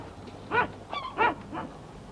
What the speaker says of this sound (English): There was a dog barking at the sea,